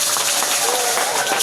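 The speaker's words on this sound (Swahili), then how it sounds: "Makofi kwake." A church congregation breaks into steady applause, a dense, even wash of clapping from many hands that fills the whole moment, with talking mixed in.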